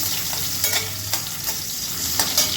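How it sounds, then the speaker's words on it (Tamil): Crushed ginger frying in oil for ginger rice, a loud close sizzle with bright crackles and periodic scraping strokes as it is stirred, continuous and busy without speech. "இஞ்சை போட்டு நல்லா இந்த கொஞ்சம் தூளாக வச்சுருக்கேன் இன்னும் நல்லா வறுத்து எடுத்துக்கிறேன்"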